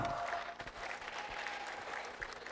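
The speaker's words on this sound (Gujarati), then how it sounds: "હવે તાળીઓ તો પાડો." Audience at a beauty seminar and competition in Vadodara claps steadily after a second-prize announcement, a dense, moderately loud patter of hands lasting a few seconds with no speech over it.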